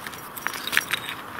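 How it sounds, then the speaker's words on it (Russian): A metal bicycle wrench clinks and rattles as it is handled, with a few light metallic taps close by and nothing else. "велосипедный ключ"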